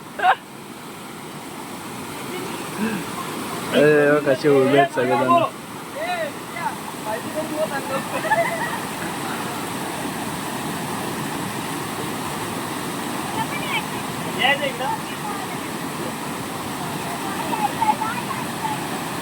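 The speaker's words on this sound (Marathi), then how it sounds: "तिथे भलतच चालू आहे ते बघा पाणी उडवतो आता" Continuous rushing water with splashing churns in the background at a Ganpati immersion in Konkan, while voices speak briefly near the start and middle.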